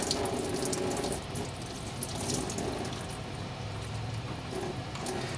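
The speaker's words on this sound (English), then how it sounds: "You'll see some of that coolant drip down there." Coolant drains from a 2007 Toyota Yaris into a catch basin as a steady liquid trickle and splash that runs the whole time without a break, fairly close and with no talking.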